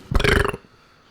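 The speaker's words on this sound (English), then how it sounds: "That burp's so stinky." A single loud, close burp lasts about half a second, then gives way to near silence.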